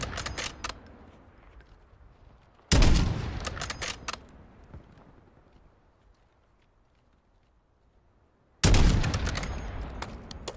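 Gunfire in GTA V roleplay: sharp bursts of rapid shots strike at the start, again near three seconds with trailing echoing cracks, then a quiet lull before another loud volley near the end.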